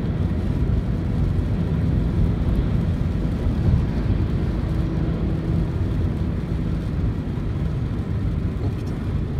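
Steady engine drone of a Peugeot 207 SW held at high revs on the Nürburgring, a continuous low rumble with road and wind noise from inside the cabin, no clear shifts or pauses.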